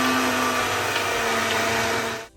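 Blender mixing a post-workout shake, a loud continuous whirring motor drone close up that holds steady for a couple of seconds and then cuts off abruptly.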